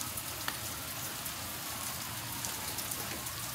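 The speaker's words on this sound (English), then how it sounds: "and then there's rain coming down." Steady rain falls outdoors in a continuous dense patter of drops on a surface, even and unbroken throughout, with no voices.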